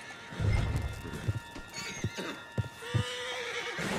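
A horse in the video game Red Dead Redemption 2 whinnies clearly, followed by a few clopping hoof steps and soft thuds, close by, with a steady low background hum.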